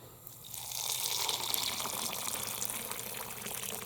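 Water pours steadily over shelled sandalwood nuts in a container to soak them, a close, continuous gushing splash that swells after a brief start and holds evenly.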